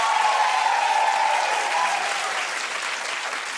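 Studio audience applause following an Oscar nomination announcement, a steady dense wash of clapping that fades slightly toward the end.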